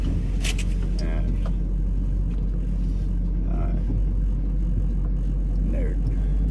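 A truck engine runs steadily in a farm yard, a loud continuous low rumble filling the scene, with faint clanks and shifts on top.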